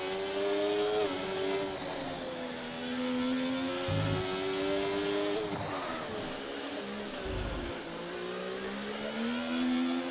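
Racing cars fly past on a track during a charity race event, engines whining at high revs with pitch sweeping down as they pass close by, steady loud engine noise throughout with brief low bursts.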